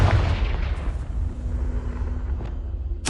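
A Confringo spell blast in Hogwarts Legacy: a heavy, rumbling explosion fills the clip with a low boom that decays slowly, then a sharp new burst arrives at the very end.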